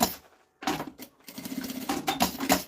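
Sewing machine stitching a fabric bag seam, a short burst of rapid mechanical clatter, a brief pause, then a longer run of fast rattling stitches at close range.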